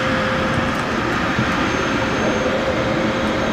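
A shop vac roars continuously as it pulls water out of the jets while a hot tub is drained for winterizing: a constant, loud, even suction drone with no voices.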